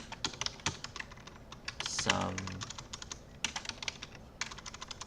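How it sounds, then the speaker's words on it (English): Fast, uneven keystrokes on a computer keyboard clatter up close throughout, with a brief voice cutting in partway through. "I'm bad at typing"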